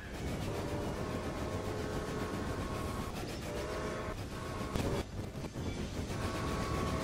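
Trains running in the video game Railway Empire, a continuous rumbling rail roar with rolling wagon noise and brief dips and shifts, steady and fairly loud with no talk.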